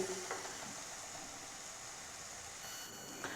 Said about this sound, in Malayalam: ഈ തക്കാളിയെ നന്നായി ഇളക്കി ഒന്ന് ഉടച്ചെടുക്കാം വേവിച്ചിട്ട്